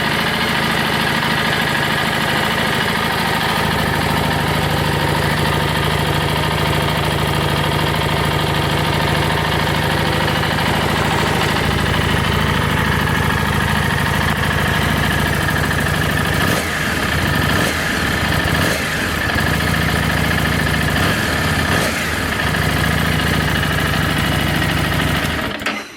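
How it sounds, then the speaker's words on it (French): A Harley-Davidson Street 750 with its Revolution X engine idles steadily and loudly up close, a constant mechanical thrum, with a few brief blips of throttle late on before it cuts off. "reste maintenant une seule chose à vous faire écouter, la mélodie de ce Revolution X"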